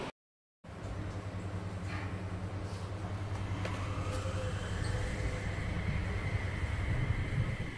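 Inside the front car of the driverless Nippori-Toneri Liner, departing from Nippori, a steady low rumbling hum of the moving train holds throughout, with airy rushing noise building gradually after a brief silent moment at the start.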